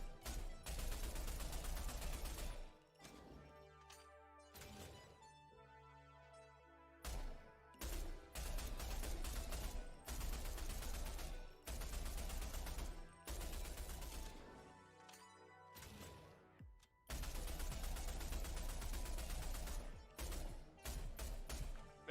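A gun with an exotic weapon skin fires in the video game Rogue Company: loud, dense bursts of rapid gunfire that repeat with short pauses between them, and no voices.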